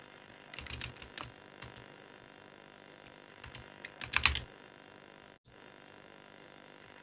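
Keyboard keys in a video game clatter in short bursts of typing separated by pauses, one flurry louder near the end, with no talk.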